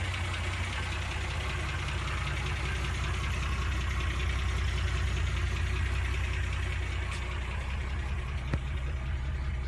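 A Wolseley car engine idles steadily at normal operating temperature, a close, even, low rumble that holds throughout with no talk over it.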